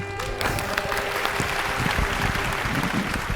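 An audience at a Vietnamese variety stage show applauds, with continuous dense clapping filling the hall at an even level.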